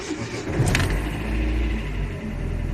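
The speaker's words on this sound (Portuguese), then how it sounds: "Vamos dar partida aqui para ver se vai apagar." Chevrolet Corsa Classic with an engine noise and a battery warning light is started up close; the starter cranks and the engine catches into a rumbling idle.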